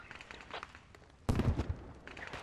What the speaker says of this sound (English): I'm hearing a lot of explosions on the outskirts